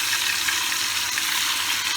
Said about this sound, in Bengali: এবার চলুন, তেল গরম হয়ে গেছে, আমি এটা ভাজতে দিই।